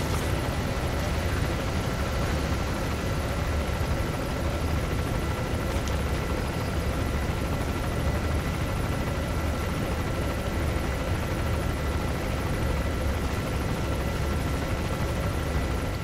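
A helicopter in Metal Gear Solid V produces a dense, constant roaring drone that fills the whole stretch at an even, loud level without pause.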